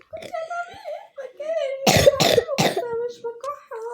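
A young girl, unwell, coughs three times in a quick, loud burst in the middle, with her own childish chatter and murmurs before and after.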